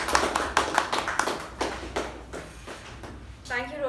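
Scattered hand claps of a small Toastmasters meeting audience welcoming the Master of Ceremonies, a quick run of sharp close taps that thins out and fades within a few seconds.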